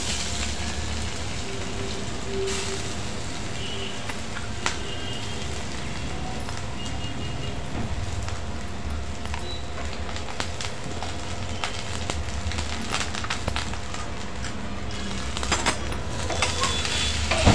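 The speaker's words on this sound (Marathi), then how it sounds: "मिरची छान तडतडली" Green chillies splutter in hot oil at the start of a fasting-style grated potato dish. A steady, dense crackling sizzle runs close and fairly loud throughout, with no talking.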